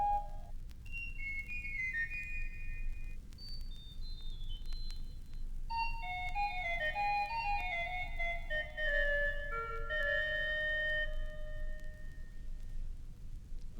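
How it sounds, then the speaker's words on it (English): Pipe organ sounding a cornet solo combination of nasard and tierce with unison and octave ranks, a bright reedy melody of sustained notes winding up and down over a steady low hiss of background noise, no voices. "This solo combination produced by the nasade and tierce and one or more unison and octave pitches is known as the cornet"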